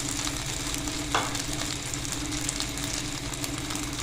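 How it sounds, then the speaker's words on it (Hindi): Egg frying in oil in a pan for pita burgers, a steady close sizzle and crackle running throughout with a faint low hum underneath and a brief sharper scrape near the start. "थोड़ा सा ऑयल डालेंगे और अंडे को हमने 3 हिस्सों में डिवाइड करके तो इसको हमने बना लेना है, फ्राई कर लेंगे"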